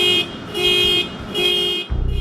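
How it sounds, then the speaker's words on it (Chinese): A car alarm suddenly going off at night, blaring loud, steady electronic tones in repeating pulses that stop and restart, with a brief low rumble near the end. "汽车警报器没由来的突然启动"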